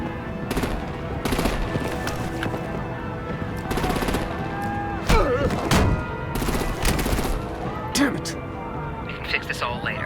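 Rapid bursts of gunfire from the video game Batman: The Enemy Within, repeated volleys and sharp shots layered over music and effects, loud and dense, with a voice speaking among the shots.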